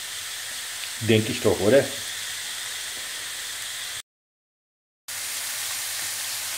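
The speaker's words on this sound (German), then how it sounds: "Brutzel. In der Pfanne." Hamburger patties sizzle steadily in a frying pan, a constant hiss with a short stretch of talk over it before the sound cuts out briefly and the frying resumes.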